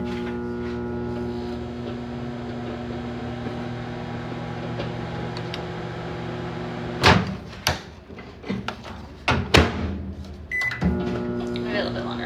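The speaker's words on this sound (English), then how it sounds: "let's go to the microwave and heat it up" A microwave oven hums steadily while heating food, then a door clunks and bangs several times near the end, with a voice talking underneath.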